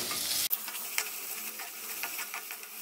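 Onions and long-cut green chillies with a little salt sautéing in a pan, a steady close sizzle with scattered crackles and stirring scrapes after a short louder opening burst.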